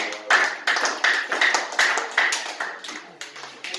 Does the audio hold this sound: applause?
yes